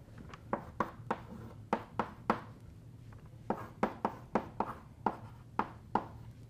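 Writing on a board during a physics lecture as an integral is worked out: a steady run of sharp, close taps and short strokes in an uneven rhythm over a quiet room hum, with no talk.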